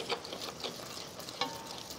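Butter being stirred slowly into a beef osso buco sauce, a soft, continuous scraping and gentle sizzle with a couple of brief louder stirring scrapes, close and steady with no talk.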